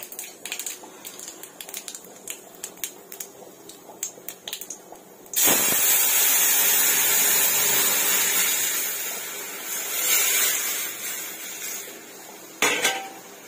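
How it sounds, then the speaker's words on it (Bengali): Asafoetida goes into hot oil for tempering dal, and a sudden loud hiss erupts after scattered utensil clinks, sizzling strongly and steadily before easing slightly, with a sharp clatter near the end. "এবার তেলের মধ্যে একটু হিং দেব, ছকে দেবো ডালটা।"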